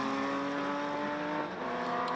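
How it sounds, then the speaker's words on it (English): A big V8 Formula 5000 race car engine hums steadily at a motorsport festival, its harmonic drone fairly distant and faint, holding a near-constant pitch with a slight dip midway. "good to see Brendan Grigiol out there in the big V8 Formula 5000 that you can hear"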